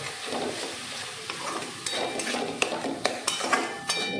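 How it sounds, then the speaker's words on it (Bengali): Ground tomato paste with spices for bhindi do pyaza fries in a pan with a low sizzle while a spoon stirs and scrapes, giving several sharp metallic clicks toward the end, close and without talk. "টমেটোটা দিয়ে দিলাম। এবার এটাকে ভালো করে কষতে হবে"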